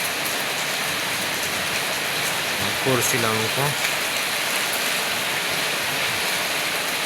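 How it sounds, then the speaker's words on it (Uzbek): Heavy hail pelting down in Tashkent on 27 May, a dense, steady hiss of impacts filling the whole scene, with someone speaking briefly partway through. "katta do'l yog'yapti."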